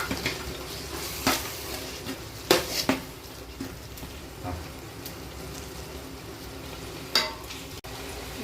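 Tomato, onion and ginger-garlic paste sautéing in a pan with mint and coriander for a vegetable biryani, a soft steady sizzle punctuated by sharp clinks and scrapes of a spoon against the pot.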